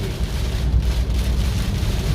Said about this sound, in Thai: ลมแรงก็ฝนแรงอยู่ครับช่วงนี้